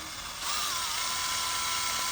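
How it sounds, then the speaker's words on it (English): Power drill running steadily as it pushes a screw into an RC off-road drag tire for a Baja 5B, a continuous whirring mechanical whine that starts abruptly and holds at close range with no talk. "You can use screws if you want just to push it in, but I prefer a drill."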